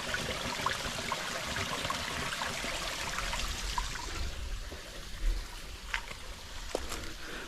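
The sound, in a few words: water flowing in a hillside stream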